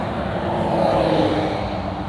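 Steady highway traffic noise beside a subdivision entrance, a continuous broad roar of passing vehicles, fairly loud and unbroken, with no talking.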